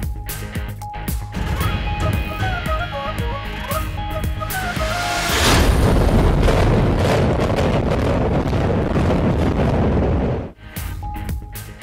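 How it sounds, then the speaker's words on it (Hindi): A 60-year-old building in Jacksonville, Florida is brought down with explosives: a rapid string of sharp blasts, then a long loud rumbling roar of collapse that cuts off near the end, with traffic-like noise around it. "अमरीकी रियासत फ्लोरिडा के शहर जैक्सनवाइल में 60 साल पुरानी इमारत को धमाकाखेज मवाद से गिरा दिया गया।"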